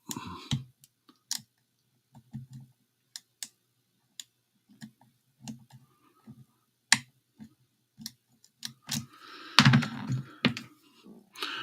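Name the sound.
bowling pins being set, clicking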